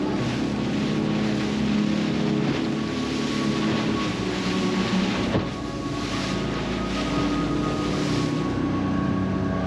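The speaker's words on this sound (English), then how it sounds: "We got caught in the roughest seas we have ever been out in our boat." A motorboat drones steadily through rough seas, its engine hum blended with heavy wind buffeting and splashing water, loud and continuous with a brief jolt partway through.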